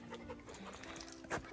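A small Chihuahua pants in quick, steady puffs close by on a farm in Arkansas, lasting only a moment with no talking.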